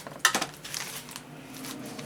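Small metal drill bits poured into a container while unboxing bead supplies, a quick burst of light clinking and rattling at first, then a few scattered faint clicks trailing off, with no talking.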